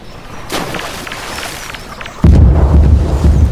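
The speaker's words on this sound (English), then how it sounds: "that's how that works if I throw a grenade in" A grenade blows up in Half-Life 2: a sudden loud, deep boom that cuts in after a stretch of quieter game ambience and rumbles on to the end.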